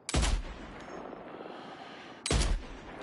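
Two heavy sniper rifle shots in Death Stranding 2, each a sharp loud close crack with a booming tail, about two seconds apart with quiet in between and no talking.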